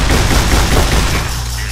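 Dense, loud gunfire from a weapon aimed down iron sights in Fallout New Vegas, a rapid burst of shots filling most of the moment before trailing off near the end.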